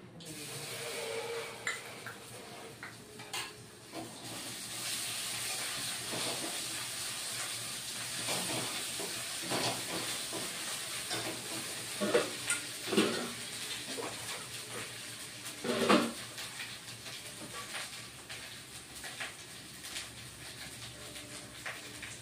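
Green chili paste fries in a pan with okra, giving a quiet, steady hiss and sizzle with occasional soft clinks and stirring bumps throughout.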